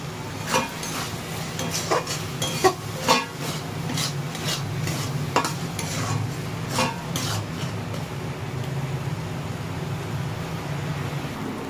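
Shredded Bombay duck (lote fish) is stirred as it dry-fries in a pan, with repeated scraping strokes of a spatula against metal over a low sizzle, busy for most of the stretch before easing into a quieter fry near the end.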